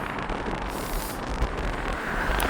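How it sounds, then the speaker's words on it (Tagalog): Steady wind roars across the microphone, a broad rushing noise with gentle gusts and no voices. "Mahangin eh, malamig."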